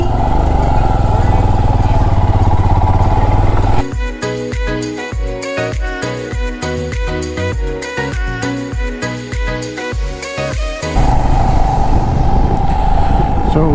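A motorcycle rides through Leh town in Ladakh. Its engine gives a loud, steady rumble, broken in the middle stretch by a series of rhythmic, pulsing bursts before the smooth drone returns.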